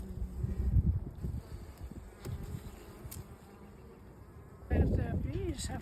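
Honeybees buzz steadily around a hive, a low droning hum with brief louder swells, and a voice briefly talks near the end.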